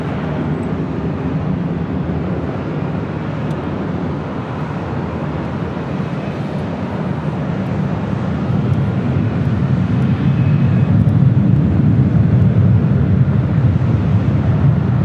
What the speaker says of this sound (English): Swiss Flight 41 heading back to Zurich, the 777-300ER, possibly a north side departure.